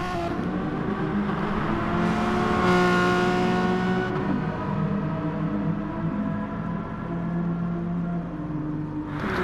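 Touring race car engines, including a Mazda, howl in a racing video game at the Red Bull Ring, a loud continuous drone with rising and falling engine pitch as cars run close together.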